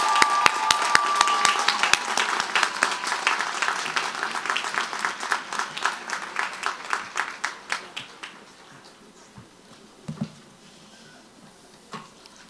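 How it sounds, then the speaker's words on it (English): Applause for prize winners at the Smith College Ivy Day convocation: a crowd's dense clapping, loud and sustained at first, then thinning into scattered claps before fading out. "a great big round of applause for all our"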